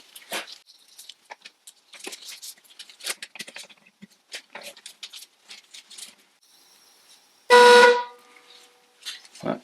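A single loud blast from a restored Lucas 9H horn off a 1970 Triumph Herald 13/60, lasting under a second, preceded by scattered clicks and handling noises close by.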